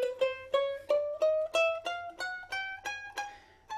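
Ukulele plucked one note at a time, about a dozen clean separate notes climbing steadily in pitch at an even pace, close and alone with no talking.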